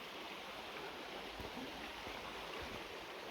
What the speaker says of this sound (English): you've got your river at the side here, so quite a peaceful place